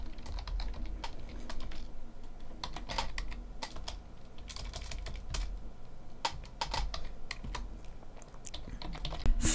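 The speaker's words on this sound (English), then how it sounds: "when I was typing in gulp it and swallow" Rapid, uneven keystrokes clatter on a computer keyboard close to the microphone, in bursts of clicks and pauses over a low background hum.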